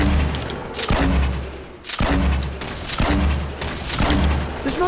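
Gunfire in a video game, heavy booming shots landing in a regular rhythm about once a second, loud and close, each with a sharp crack and a short decaying rumble, no talk.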